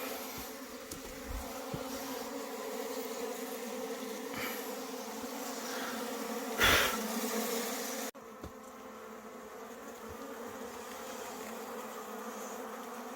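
Honeybees swarm and buzz thickly around a hive being moved from a round hive into a square box after the autumn honey harvest, a steady close drone with a brief louder surge partway through.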